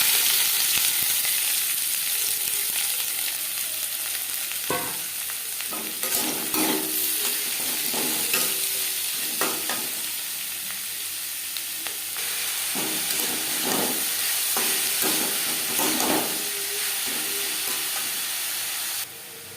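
Onion, tomato and crushed garlic sizzling in a little refined oil in a wok, a constant loud hiss broken by repeated scraping stirs, close and without talk, ending abruptly.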